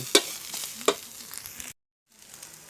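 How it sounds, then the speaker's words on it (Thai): Field rat meat dry stir-fried in a pan for a spicy Thai dish gives a steady dry crackling sizzle with a couple of sharper scrapes, then cuts off abruptly. "นี่คั่วลงไปอีกนี่แห้งแกลก ๆ"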